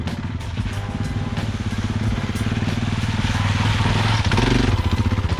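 An adventure motorcycle's engine rumbles steadily and close by as the bike rides across an obstacle on a rough backcountry trail, with the throttle rising slightly toward the end.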